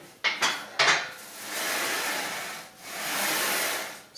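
A Syedee leg press machine starts with two sharp metallic clanks, then makes two long rushing, whooshing swells as the sled moves, loud and close, with no talking.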